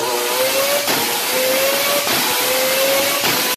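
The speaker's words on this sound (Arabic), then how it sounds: "سامعين بجهاز الداينامو هذا الجهاز يحسب القوة والعزم وهواي شغلات مال السيارة" A car engine runs hard on a dynamometer's rotating rollers during a power and torque test, a loud steady roar with a rising whine and two brief dips where it shifts or lifts, continuous throughout.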